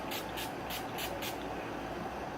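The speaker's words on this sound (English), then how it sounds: "just spray it all over your face" Five quick bursts of NYX Matte Finish setting spray sprayed onto a face, in a rapid rhythm, close and crisp, against a steady low background hum.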